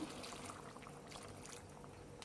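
Liquid poured into a Bengali fish curry with Malabar spinach and potatoes in a pot, a soft, brief trickling pour heard close but faint.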